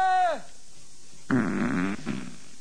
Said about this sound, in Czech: teď jste nám slíbil, že tady nebudete dneska prdět